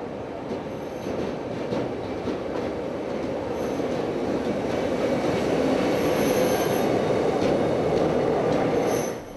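Kárpátalja Express nostalgia train running on a railway in Hungary, a loud, steady rumble of rolling railcars and wheels that builds slightly and holds close for the whole stretch, with faint squeals and track clatter and no voices.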